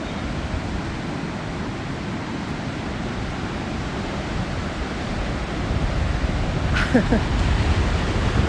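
Waves wash onto a beach at sunrise as a continuous broad roar of surf, loud and steady throughout with a slight swell near the end and a brief faint sound over it.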